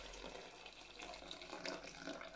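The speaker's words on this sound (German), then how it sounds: "dann kommt jetzt hier noch mal einen halben Liter Wasser." Water runs and splashes as half a litre is poured into a Thermomix TM6 kitchen appliance, a close, continuous trickling gush for a couple of seconds without speech.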